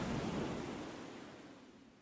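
Ocean waves surge in the dark of night, a broad soft wash that starts fuller and slowly fades over a couple of seconds, fairly faint and without voices.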